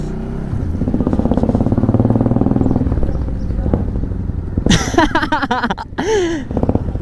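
A motorcycle rides along a muddy road with a steady, close engine drone. Toward the end, voices break in with excited talk and laughter.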